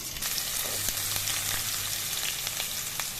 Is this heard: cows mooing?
no